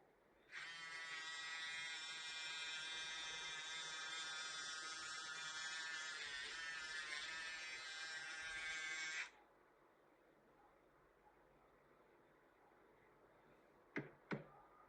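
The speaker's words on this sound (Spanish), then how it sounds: "Escuchemos el sonido un momento." A Kemei ZSZ electric shaver running at 10,000 RPM gives a steady, high-pitched buzzing whine for about nine seconds and then cuts off, followed by quiet and two sharp clicks.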